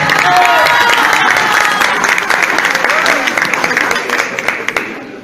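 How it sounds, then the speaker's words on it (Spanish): Loud, dense audience applause fills a hall for an honoured guest at a head-table ceremony, steady clapping with a few cheers, tapering slightly near the end. "Un fuerte aplauso."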